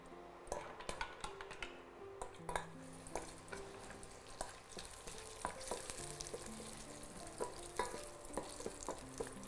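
Cashews and almonds sizzle as they fry in a pan, with frequent scraping taps and clinks of a spoon stirring them, fairly close and with no talk.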